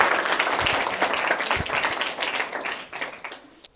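An audience applauds a prize winner with dense, steady clapping that thins and fades out toward the end.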